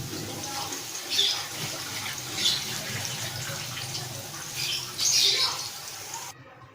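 Chopped onions fry in a cup of hot cooking oil at home, a close, steady sizzle with crackling pops and brief louder surges, ending in sudden silence; no one speaks over it.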